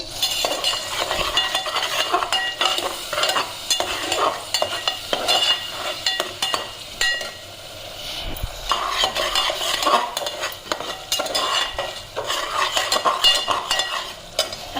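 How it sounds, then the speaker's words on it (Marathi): Ground masala paste sizzling and frying in hot oil while a spoon stirs it, loud close crackle with repeated scraping and clinking of the utensil against the pan. "आता सगळ्यात आधी वाटण टाकून घेते"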